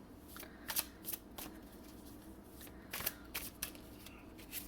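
Tarot cards being shuffled in several quick riffling bursts, crisp and close, with short pauses between them against a quiet room.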